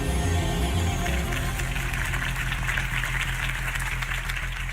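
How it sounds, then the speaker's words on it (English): Crowd applause from a campaign rally scene in the Batman Telltale Series video game, a steady wash of clapping that holds loud and dense throughout, with low background music underneath. "If only Mr. Wayne, my campaign's largest backer, could have heard that applause"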